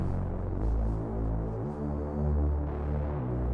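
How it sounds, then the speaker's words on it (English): A dark OVO-style bass synth from Logic's ES2 plays low, sustained droning notes that change pitch every second or so, deep and heavy with no talking. "The OVO bass synth, very dark."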